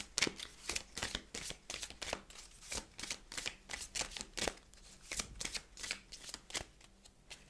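Tarot cards being shuffled by hand in a steady run of crisp riffling flutters, close and fairly quiet, with no talking.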